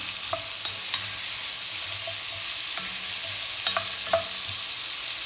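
Vegetables sautéing in olive oil in a hot pot for black bean soup, a steady bright hiss of frying with a few light utensil taps and stirring knocks, close and constant, no voices.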